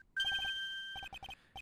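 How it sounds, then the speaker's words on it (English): A cell phone ringtone from the courtroom adventure game Ace Attorney Trials and Tribulations: a bright electronic tone rings out, then holds a long steady note over a pulsing melody, followed by clusters of short chirpy beeps. It is clear and alone, with no talk. "Oh, Nick, your cell phone's ringing"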